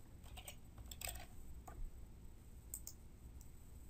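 Typing on a computer keyboard to enter a bookmark name in a source code editor, with quiet clicking keystrokes in short irregular bursts, close and fairly soft, no talking.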